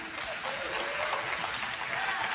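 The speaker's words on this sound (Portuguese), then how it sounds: "Pode aplaudir a Jesus." A church congregation applauds during a sermon, a thick, continuous wash of clapping that holds steady throughout, with a voice faintly audible beneath it.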